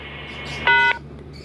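DTMF keypad tones entering an access code on a talking radio repeater: a single short, loud two-tone beep stands out against a steady background hum and a faint voice.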